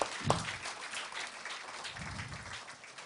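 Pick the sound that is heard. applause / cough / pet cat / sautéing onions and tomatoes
applause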